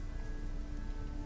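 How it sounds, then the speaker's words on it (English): Heavy rainstorm hammering down on a slick steel deck in the Shadowrun Hong Kong video game, a steady dense roar of rain at close range with no pauses, playing alone. "sheeted with water from the rainstorm that hammers down from above"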